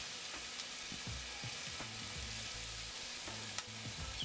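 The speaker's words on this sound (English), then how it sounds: "watch all this stuff sizzle" A turkey melt on a pretzel bun frying on a griddle, with a steady bright sizzle and crackle throughout, plus occasional scrapes and taps of a spatula against the metal surface nearby.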